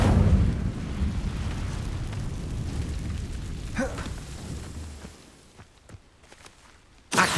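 Incendio fire spell cast in Hogwarts Legacy, a roaring, rumbling burst of flame that starts loud and slowly fades over several seconds, with a few faint clicks as it dies away and a sharp sound at the very end.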